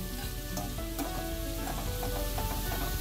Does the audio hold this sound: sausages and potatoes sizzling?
yes